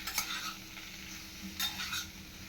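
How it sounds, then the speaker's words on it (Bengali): Potatoes with turmeric frying in a pan, a faint, soft sizzle with two brief bursts of scraping as they are stirred. "হলুদ দিয়ে আলু ভালো করে ভেজে নিচ্ছি"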